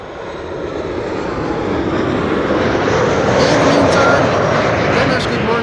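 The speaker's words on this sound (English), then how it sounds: "Cargolux, flight 6236, arriving from Miami." A Cargolux cargo jet arriving at Amsterdam Schiphol from Miami, its engine roar loud and broad, swelling steadily as it approaches and staying strong to the end.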